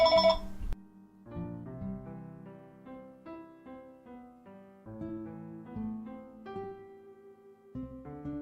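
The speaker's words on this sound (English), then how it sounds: "Phone stopped ringing." A ringing phone in the Seiken Densetsu 3 video game plays as a soft, repeating synthesized melody of bell-like tones after an opening burst, quiet and steady with no voices.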